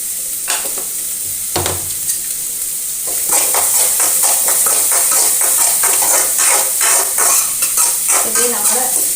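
Food sautéing in a pan with salt added, a loud steady sizzle broken by repeated scraping strokes of stirring, growing busier and more constant after the first few seconds, with no talking.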